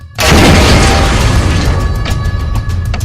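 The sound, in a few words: massive explosions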